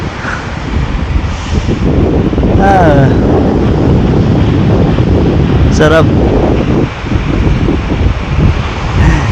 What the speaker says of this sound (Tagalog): Lumalakas yung alon kasi malakas din yung hangin